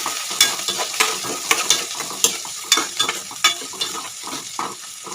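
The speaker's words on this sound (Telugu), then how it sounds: "ఉల్లిపాయ బాగా వేగాలి." Onions fry and sizzle in a pan for a Telugu flat bean and onion curry with curry leaves, with repeated scraping stirs of a utensil against the pan over a continuous sizzle.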